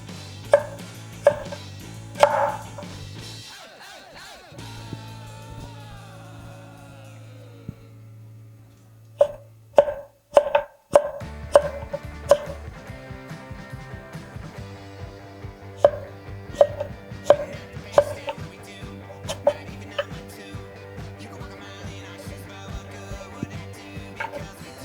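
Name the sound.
santoku knife cutting squash into planks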